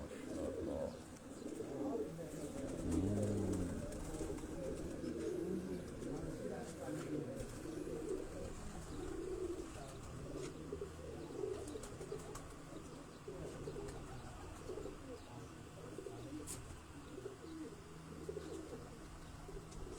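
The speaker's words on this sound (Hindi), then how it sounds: "और ज़्यादातर कबूतर जो हैं इनके पास वो उस्ताद इखलाक अहमद ख़ान साहब के घर वाले ही" Several pigeons coo softly and continuously, their low burbling calls overlapping in a quiet outdoor setting with faint background murmur.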